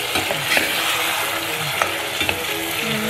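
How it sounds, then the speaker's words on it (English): Big-cut onion pieces fry in a pot for caldo, giving a dense, steady sizzle with occasional stirring scrapes and small pops throughout. The sound is loud and close, with no talking. "Put the onion in there. I like to cut it big. I'm just frying it in there."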